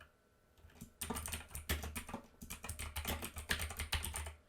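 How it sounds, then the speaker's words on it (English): Fingers type on a computer keyboard nearby, with dense rapid clicking that starts after a second of quiet and runs in bursts with short pauses. "I'll be taken to a blank line where I can begin typing"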